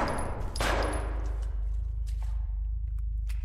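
Gunfire from a player's weapon in a scary video game, a loud dense burst up front then fading into a low rumbling bed with scattered sharper shots and clicks.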